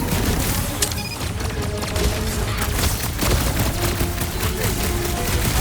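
Dense bursts of video game gunfire from Marvel's Guardians of the Galaxy on PS5, sharp shots and booms piling over a loud, busy battle mix with little pause.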